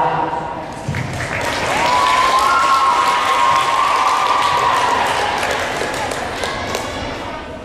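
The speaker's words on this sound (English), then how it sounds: "Clap." Audience applause at a school talent show swells into a broad round of clapping with some cheers, holding steady and then tapering slightly; a voice and a sustained tone sit faintly beneath.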